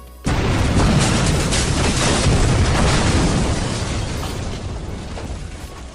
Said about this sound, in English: So when something explodes, this is what happens.